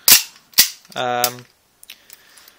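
A SOCOM Gear Hitman M9 airsoft pistol fires two sharp, loud cracks about half a second apart, followed by a brief ringing mechanical rattle and a few faint clicks, recorded close up.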